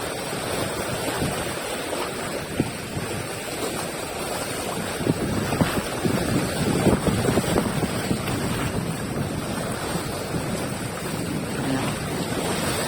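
Strong wind roars steadily across the microphone with water and waves churning underneath, gusty and continuous throughout with no talking.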